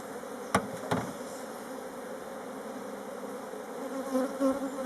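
Honeybees hum steadily throughout a swarm transfer from a small nuc box into a full hive, a dense close buzz with two brief knocks near the start and a slight swell toward the end.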